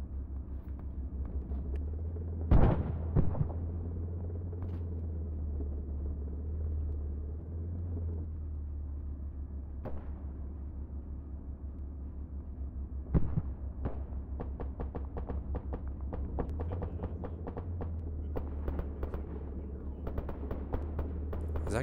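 Ammunition cooking off during amphibious assault training with an armored vehicle platoon gives scattered sharp bangs and bursts of rapid popping over a constant low engine rumble, with louder cracks near the start and a dense cluster later on.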